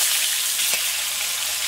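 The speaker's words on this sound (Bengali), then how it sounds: "মাছের তেল হয়েছে ওই জন্য ফুটছে বলো?" Thick pieces of grass carp fry in oil, a continuous close sizzle and spatter with a brief stirring knock partway through, no voices over it.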